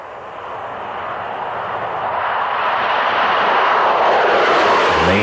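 Fighter jets, F-5s and F-15s, roar overhead with a broad rushing engine noise that grows steadily louder and peaks near the end of a single close pass, with no talk.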